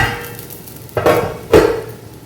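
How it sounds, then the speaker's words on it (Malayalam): Chicken biryani stirred in a pot, two distinct scraping clanks of a spoon against the pot over a low background hiss, close and clear. "ഇളക്കി കൊടുക്കണം അടി പിടിക്കരുത്"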